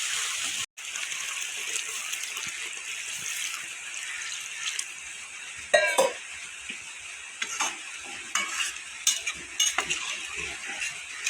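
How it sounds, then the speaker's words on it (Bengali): Spice masala frying in oil for a tilapia fish curry, with a steady, loud sizzle throughout and occasional scrapes and clinks of a spoon against the pan. "মশলাটা ভালো করে ভাজতে হবে, তেল ছেড়ে দিলে"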